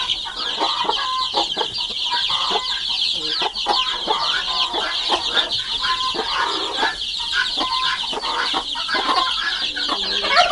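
Domestic hens cluck and chicks peep continuously nearby, a busy chorus of short chirps with soft clucks underneath.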